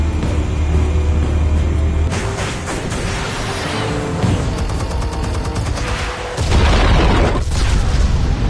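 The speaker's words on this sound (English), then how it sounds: "Explosives armed. Fire when ready." Heavy explosives detonating in Telltale's The Batman game: loud, dense rumbling blasts with deep booming low end that swell at the start and again near the end, and no talking.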